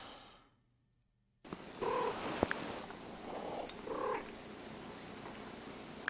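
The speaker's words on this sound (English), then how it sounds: "Those are nice kitties." After a brief silence, a cat purrs softly and steadily up close, with a couple of slightly louder rhythmic swells.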